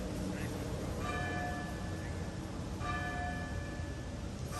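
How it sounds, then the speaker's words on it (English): Church bells ring in the distance with two separate clear peals, heard faintly behind a steady broadband background hiss. "church bells ringing in the background"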